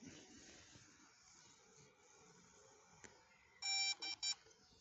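Faint room hiss, then a short series of high electronic beeps: one longer tone followed by two quick chirps, close and clear.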